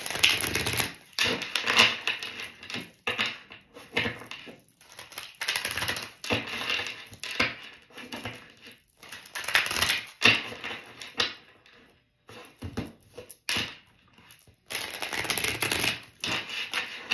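An Oracle Moon oracle card deck being shuffled, with close, crisp bursts of riffling and card flicks separated by brief pauses.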